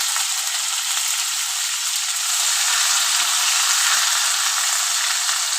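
Tomato and green chili frying with puti fish in a pan, a dense continuous hiss of hot oil sizzling up close with faint stirring scrapes, no voices.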